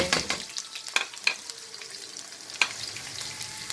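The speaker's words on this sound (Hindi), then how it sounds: "अनियन लिए हैं उनको फ्राई करूँगी" Onions fried in about a third of a cup of oil for a ghiya tori dish give a faint, steady sizzle with a few sharp crackles and stirring clinks. No one speaks.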